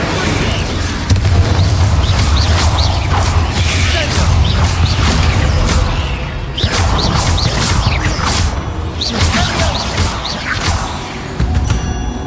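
Explosive spells in the Hogwarts Legacy video game hit in loud booming blasts and crashes, one after another with whooshes between them, dense and continuous throughout over heavy rumbling game action.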